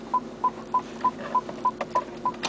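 Parking sensor in a car chiming eight short, evenly spaced beeps at a steady rhythm, clear and close over a low cabin hum.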